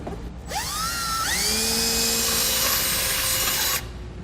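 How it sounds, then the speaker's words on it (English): A power drill with a 1/2 inch bit drills through metal, spinning up with a rising whine, then grinding steadily at high pitch for a few seconds before stopping abruptly. "Now we want to use our 1/2 inch drill bit and get that drilled out."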